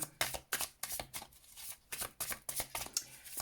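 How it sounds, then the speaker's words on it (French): Tarot cards are shuffled and drawn in quick, rhythmic bursts of papery riffling and flicking, close up and fairly quiet, with no talking. "Je vais tirer déjà 2 cartes pour le général."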